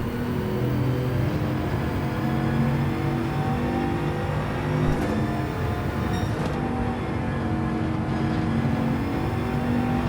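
A Bugatti Veyron race car engine in the video game Gran Turismo 7 holds a steady high-pitched drone under acceleration, loud and continuous, with a brief gear change partway through.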